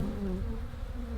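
Honeybees buzz in a continuous close drone during a spring beehive inspection, a steady hum with shifting pitch.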